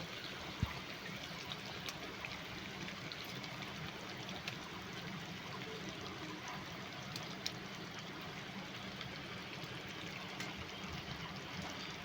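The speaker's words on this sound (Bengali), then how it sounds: "এখানে মশলাটা কিন্তু অল্প পরিমাণে জল দিয়ে দিচ্ছি" A small amount of water is poured into spice paste for a fish curry with pabda fish and poppy seed, a soft continuous trickle heard close, steady and fairly quiet for about twelve seconds.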